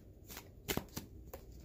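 Tarot cards being shuffled by hand, a few quick riffling bursts with a louder clustered flutter in the middle, close and fairly quiet with no talking.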